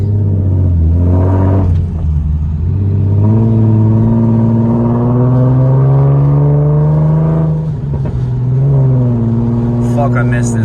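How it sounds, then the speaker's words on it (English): A car fitted with ISR longtube headers runs loud and close, its deep engine drone swelling and settling as revs rise and fall, with a brief dip near the middle and a voice briefly over it. "This car sounds crazy."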